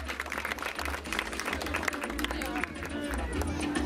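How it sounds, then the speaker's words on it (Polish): A crowd at a men's bodybuilding competition applauds with dense, continuous clapping while voices murmur and chatter underneath. "Wielkie brawa dla panów."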